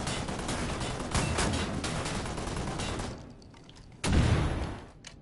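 Sustained automatic gunfire in the first-person shooter Wolfenstein: The New Order, dense rapid bursts over the first three seconds, then a short lull before another loud burst with a heavy boom.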